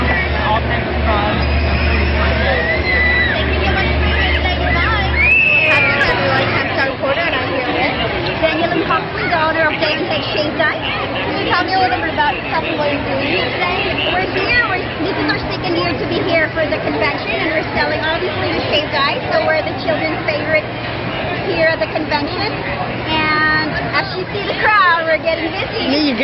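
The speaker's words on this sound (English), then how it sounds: "You're getting a busy crowd" Dense crowd hubbub fills an indoor family expo, many overlapping voices chattering steadily throughout with a low hum under the babble, the constant din never letting up.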